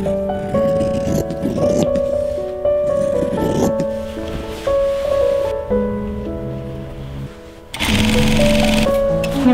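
A sewing machine stitches a narrow rolled hem on a Rococo robe à la française, whirring in steady bursts of varying length with short pauses between runs and occasional fabric handling, loud and close.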